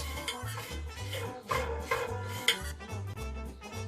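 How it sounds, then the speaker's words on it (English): Gel scraped out by hand for a homemade leave-in hair conditioner, giving repeated close rasping, rubbing strokes in a steady rhythm with a few sharper scrapes, no speech. "You scrape the gel out to get enough of it."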